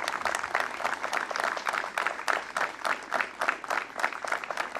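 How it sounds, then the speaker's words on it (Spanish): Applause for hospital staff at an event presenting a new medical gas module and network, a moderate crowd clapping steadily with dense, uneven claps throughout, without talk. "un aplauso grande para ellos"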